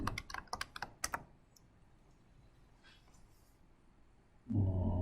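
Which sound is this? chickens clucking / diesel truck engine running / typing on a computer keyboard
typing on a computer keyboard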